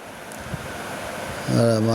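Wind gusts steadily across a rooftop terrace garden, buffeting the microphone with a low rushing rumble, before a person starts talking at the end.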